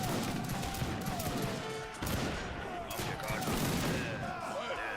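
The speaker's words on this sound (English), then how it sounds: "Here comes the machine gun camels." Machine gun camels firing in Age of Empires 3, Wars of Liberty mod, rapid bursts of gunfire in a busy battle, dense and continuous with a few sharper cracks.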